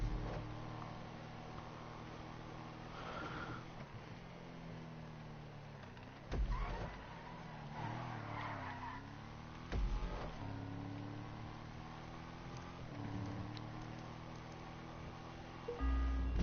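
A drift-spec Yosemite car in GTA Online loops a steady engine drone with tire-slide swells and a few sharp thumps, alone without voices.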